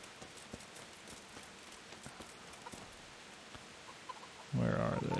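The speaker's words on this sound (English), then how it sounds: "It is raining." Rain falling in Kingdom Come Deliverance, a steady hiss of drops with scattered pattering taps throughout, ending in a sudden louder burst of noise.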